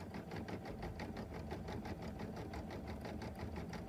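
A sewing machine stitches a blanket-stitch appliqué with a fast, even mechanical whirr and rapid needle chatter, running steadily and close by.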